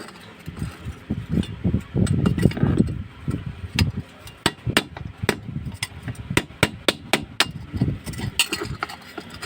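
A hammer strikes repeatedly to knock loose a washing machine bushing, producing sharp metallic taps, at first in a dense cluster, then in a steady sequence of separate close blows over a low rumble.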